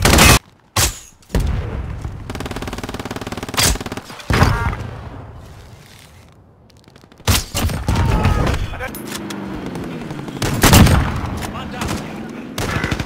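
Gunfire in the Warzone video game, with loud bursts of automatic shots and sharp single reports scattered through the scene while players talk over the action.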